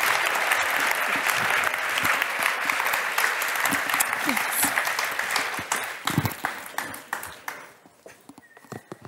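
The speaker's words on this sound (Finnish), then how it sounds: "Annetaan isot aplodit vielä." An audience at a live event applauding, dense sustained clapping that thins out toward the end into a few scattered claps.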